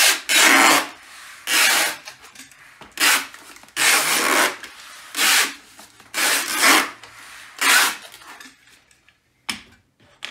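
Packing tape pulled and pressed onto cardboard wrapped around gym weights for shipping, a series of loud, close rasping strips, about eight separate bursts with short pauses between them and no talking.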